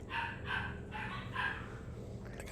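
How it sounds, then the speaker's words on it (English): Several puppies and dogs bark in quick bursts while playing, four sharp yips spaced about half a second apart, fairly close, then a quieter pause. "The dogs are going insane."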